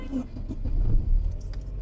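Keys jangle briefly and lightly near the steering column as a driver restarts a stalled car, followed by a low engine rumble building underneath.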